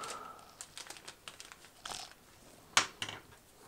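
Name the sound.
crinkling a soft piece of sheet metal or copper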